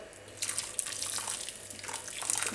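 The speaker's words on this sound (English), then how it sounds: "So we're just going to top this up with a drop of water" Boiling water splashes and trickles into a pot of Jamaican goat curry, a fairly soft, continuous pouring sound with small splashes, heard on its own without talk.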